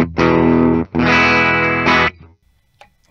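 A 2023 Gibson Les Paul Modern Supreme electric guitar plays in a clean tone: three loud strummed chords ring out one after another, then the sound falls to near silence.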